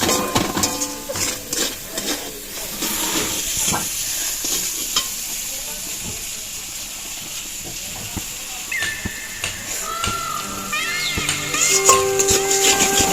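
Spice paste fries in oil in a pan for ghugni while a spoon stirs it, giving a soft sizzle broken by repeated scraping strokes, with a few brief tonal beeps near the end and no talk.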